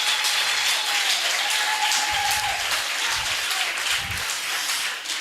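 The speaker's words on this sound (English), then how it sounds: "So give yourself a round of applause for being here this morning." Audience at a bench unveiling in Cape Flats applauding, a steady broad patter of clapping hands in a room, with a few low thumps and faint voices beneath.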